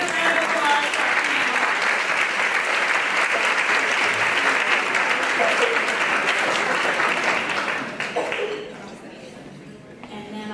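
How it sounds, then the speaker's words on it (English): Steady, dense applause from a luncheon audience greeting an education panel, sustained for about eight seconds before thinning out while a few voices start to talk. "Let's give a round of applause for our"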